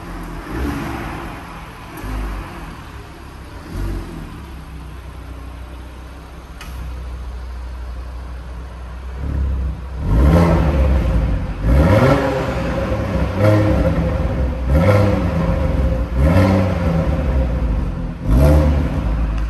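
A car sets off and drives, starting with a low idle and then repeated revving rises and gear-change sweeps as it picks up speed, loud and close, with faint ticking earlier on.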